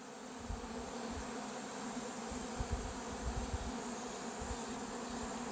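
Honey bees buzz steadily at the entrance of a beehive, a continuous moderately loud droning hum with no talking.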